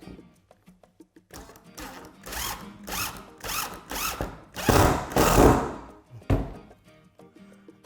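A power drill drives screws into wood while building a folding table in a woodworking workshop, with short whirring bursts that grow longer and louder, separated by brief pauses and small clicks.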